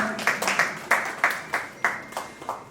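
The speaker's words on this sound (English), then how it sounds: "Please just be clapping, please" A few guests at a book release party clap in a slow, regular rhythm, about eight sharp claps spaced evenly and heard fairly close, with no talking over them.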